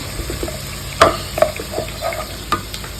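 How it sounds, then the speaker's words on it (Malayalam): Green chili, ginger, crushed garlic and curry leaves sautéing in a pan for chicken roast, with a soft sizzle under sharp, scattered stirring scrapes and clinks from a utensil. "പച്ചമുളകും ഇഞ്ചിയും വെളുത്തുള്ളിയും ചതച്ചതും കറിവേപ്പിലയും കൂടെ ചേർക്കാം എന്നിട്ട് വഴറ്റാം"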